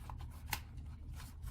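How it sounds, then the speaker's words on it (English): A paper towel is pushed into a small zippered waterproof key pouch, giving a soft papery rustle and crinkle with a brief louder scrunch midway, close and quiet. "now I'm going to insert the paper towel"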